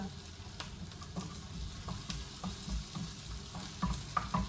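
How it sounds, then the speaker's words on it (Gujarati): Garlic and ginger paste sizzles steadily in hot oil while being stirred, with soft scraping clicks over a continuous frying hiss. "લસણની અને અદરકની ચટણી છે, તો એમ નાખી દઈશ અને થોડી વાર એને તેલની અંદર મિક્સ કરી દઈશ"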